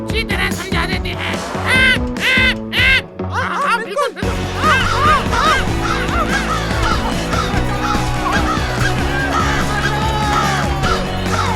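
Cartoon crows cawing in an animated comedy, repeated harsh calls over busy music and sound effects, loud and close, with a voice-like character quality throughout.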